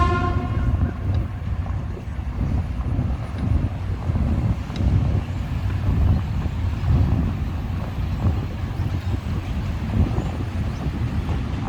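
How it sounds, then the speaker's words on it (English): A freight train passes along a linear park in Bangkok, a loud, continuous low rumble and rolling clatter of wagons that fills the whole span, with a horn-like tone at the start. "So there's a freight train coming through there"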